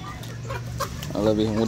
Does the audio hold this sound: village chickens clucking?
yes